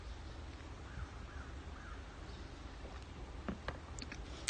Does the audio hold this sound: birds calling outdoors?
yes